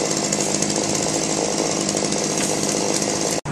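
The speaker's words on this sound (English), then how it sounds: "Matt Lavaco pulled out his chainsaw to cut down trees on 209th Street" A chainsaw runs steadily at close range, cutting storm-felled trees on a Bayside, Queens street after a violent storm, holding a loud continuous drone with a brief cutoff near the end.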